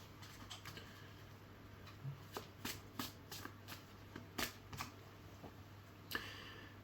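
Tarot cards being shuffled by hand, a run of soft papery riffles and taps in an irregular rhythm, close and fairly quiet, with a steady low hum underneath and no talking.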